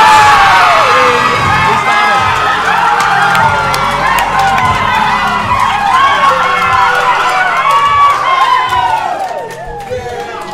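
A loud, dense crowd roars and cheers without pause at a weightlifting championship session in Auckland during a lift, with shouts and whoops layered throughout before the noise eases slightly near the end.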